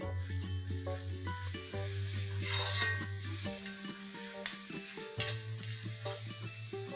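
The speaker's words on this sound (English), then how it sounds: "I'm going to saute this till the raw smell goes off." Green chilies frying with ginger and garlic paste in a pan, a soft steady sizzle with occasional stirring, heard under background music.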